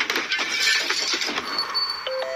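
A smouldering tire hits a house's front door, giving a clattering, glassy crash with rattling, followed by a doorbell's electronic chime near the end.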